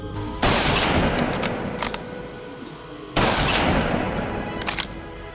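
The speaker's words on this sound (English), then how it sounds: "Next, we're going to try an 8mm Mauser from World War II." A World War II 8mm Mauser rifle is fired at a steel helmet: two loud, sharp reports about three seconds apart, each trailing off in a long echo, with a few faint clicks between them.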